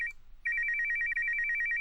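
Telephone ringing in the Leap of Faith video game: a loud, close electronic ring with a short chirp, a brief pause, then a sustained rapid trilling tone.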